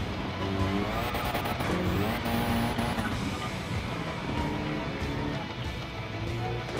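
Ford Focus Gr.B rally car engine from Gran Turismo's World Rally Challenge on a Sardegna windmills stage, a loud continuous engine drone with rising and falling revs and gear-shift steps, close and steady throughout.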